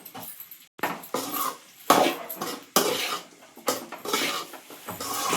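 Egg and pepper are stirred and lightly fried in a pan, with bursts of spoon scraping and metal clinks in uneven strokes separated by short pauses, close up and without voices.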